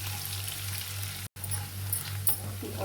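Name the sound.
onions and curry leaves frying in a pan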